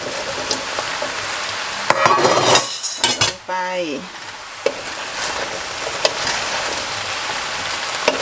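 Vegetables tumble into a pot of sizzling beef stew base with a brief clattering rush, over steady frying hiss and spoon scrapes against the pot, close and fairly loud, with no voices.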